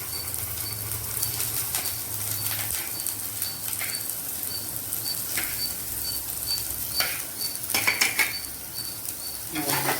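Chopped onion, tomato, green chili and curry leaves frying in a pan with a spoon stirring through them, a soft steady sizzle broken by intermittent scraping clinks of metal against the pan.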